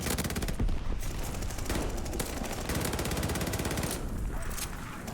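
Sustained gunfire and explosive bursts from a Call of Duty: Vanguard match, including a rocket strike, fill the scene with dense, loud, continuous battle noise throughout.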